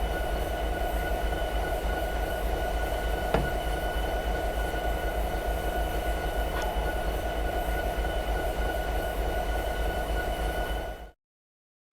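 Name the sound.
train braking to a stop in Train Simulator 2020 video game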